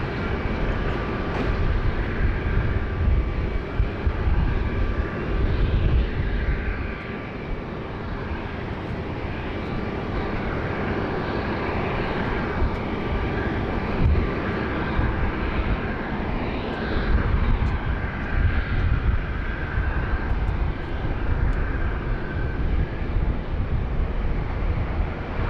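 Airliner at Sydney Airport, a broad steady roar of aircraft engines with wind buffeting the microphone, holding at a fairly constant loud level throughout.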